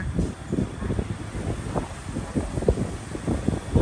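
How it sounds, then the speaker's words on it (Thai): Strong outdoor wind gusts buffet the microphone, producing an uneven, continuous low rumbling that surges and dips throughout. "ลมแรงมากเลย"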